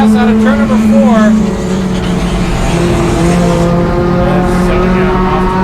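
Enduro race cars in a NASCAR Division III event battle three-wide on a half-mile track, engines roaring close and loud with rising and falling pitch as they pass, under a track announcer's commentary.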